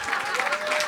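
A comedy show audience breaks into dense applause, a continuous wash of clapping that stays loud and even through a brief moment.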